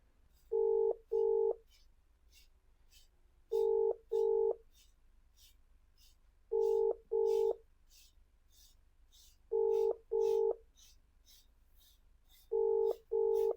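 Telephone ringback tone for an unanswered call to a mechanic: paired tone bursts repeat about every three seconds, steady and clear, with no voice over them.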